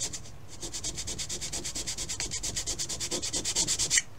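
Wood rocket fins being sanded with 120-grit sandpaper: steady, rapid back-and-forth rasping strokes, close and fairly loud, building slightly in intensity toward the end, with no talking.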